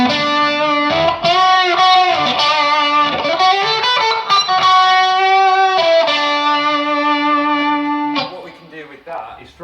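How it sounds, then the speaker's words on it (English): Electric guitar with mild crunchy overdrive, strummed chords and short riffs ringing out loudly and steadily, fading at the end. "So now we've got a bit of a crunch setting, so we've not gone mad with the distortion"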